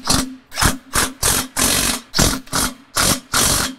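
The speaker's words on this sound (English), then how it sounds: "here's where our 15mm socket is going to come into play" A 15mm socket on a ratchet tightening the beacon light mount on a John Deere Z9 zero-turn mower, heard as eight or nine quick, even bursts of ratcheting close up, each separated by a brief pause, with no voices.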